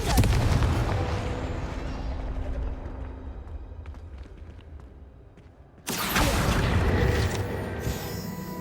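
A fire-blast spell explodes in the Hogwarts Legacy video game, a loud booming blast that fades into a rumbling tail, followed by a second sharp burst near the end.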